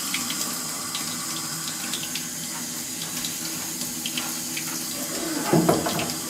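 Cold tap water runs in a steady, close stream over drained sauerkraut being readied for pierogi, with a brief louder splash near the end and no voices.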